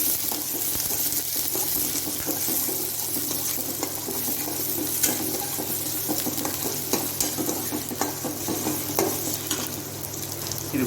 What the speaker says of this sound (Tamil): ஆனியனும் நல்ல ஒரு வதக்க வதக்கிக்கலாங்க